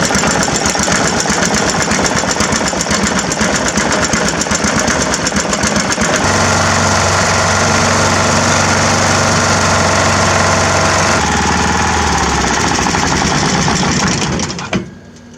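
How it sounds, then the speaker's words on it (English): A homemade trolling motor on a small home-built boat drones loudly and steadily close by, with a machine-like buzz that drops in pitch partway through, then cuts off near the end. "Trolling motor."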